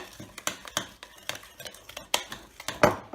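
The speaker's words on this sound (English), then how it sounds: "now let's add a teaspoon of vanilla to this creamy mixture. And I'm going to stir that in." A spoon stirs vanilla into a creamy cookie batter in a bowl, making a run of irregular clinks and scrapes against the bowl, close and fairly soft, with no talking.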